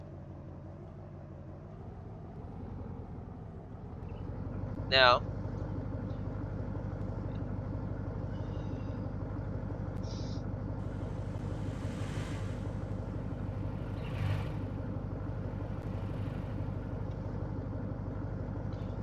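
Cars driven to a dealership in Farming Simulator 19, a low continuous engine rumble with a faint windy wash, steady and close, with a brief sharp chirp early on and a single spoken word.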